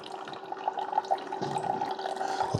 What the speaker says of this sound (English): There's where the coffee's coming out.